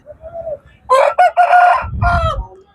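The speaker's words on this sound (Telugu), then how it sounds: "ఇక్కడున్న కోళ్ళన్నీ కూడా పందానికి సిద్ధంగా ఉన్నటువంటి కోళ్ళు అన్నమాట" A fighting rooster readied for a Sankranti cockfight in the Godavari districts crows loudly and close, one full drawn-out crow after a short lower call, with faint clucking and low background noise around it.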